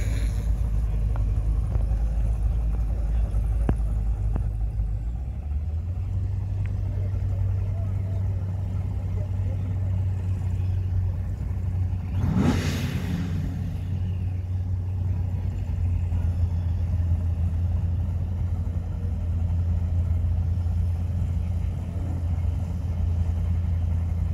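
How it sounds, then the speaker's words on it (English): A Mazda Miata fitted with a V8 engine at drag racing practice. A low, steady engine rumble drones on, its pitch stepping up near the start, with a brief louder whoosh of a passing car midway and faint voices in the background. "Miata with a V8 in it."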